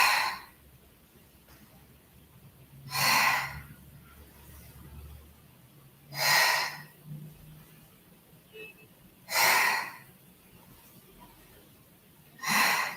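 Four strong exhales come at an even pace of about one every three seconds during tricep push-ups in a Pilates and yoga session for a sore back, with quiet pauses between them.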